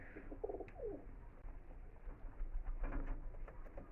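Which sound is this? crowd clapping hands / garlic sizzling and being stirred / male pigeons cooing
male pigeons cooing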